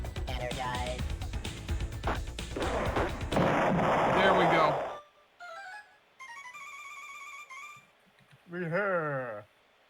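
Sci-fi ship weapons from the Star Control 2 remake The Ur-Quan Masters: a dense burst of booming blasts and explosions, then synthetic laser tones and a chirping warble, loud and close.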